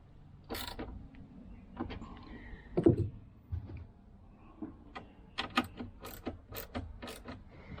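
A ratchet tightens a fitting down on a 2022 Bass Cat Caracal bass boat, giving quiet irregular clicks and mechanical clatter that speed into a denser run of sharp ticks near the end.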